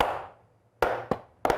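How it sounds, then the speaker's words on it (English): One person claps alone in a studio, a few separate sharp hand claps spaced irregularly, close and fairly loud. "You know why I'm clapping?"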